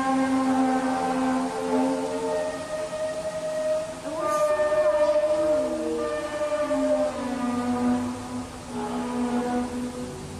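Eerie trumpet-like drone heard in the sky over Terrace, British Columbia, a layered brassy hum that bends and wavers in pitch, sustained and moderately loud against a steady outdoor background.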